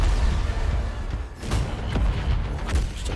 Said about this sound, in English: Just explosions.